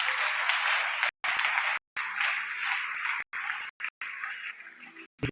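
A church congregation applauds at a Friday worship service, a dense, steady wash of clapping that runs for several seconds and is broken by a few abrupt cut-outs.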